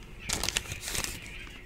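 Birds call outdoors in a lively cluster of honking, fowl-like cries and fluttering wingbeats, fairly close and loud, with no talking over them.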